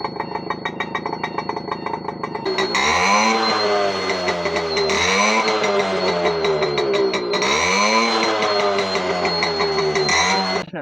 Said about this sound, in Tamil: ரியலா இப்போ நீங்கள் நேரில் பார்த்தீங்கன்னா பயங்கரமாக இருக்கும் எக்ஸாஸ்ட் நோட்டு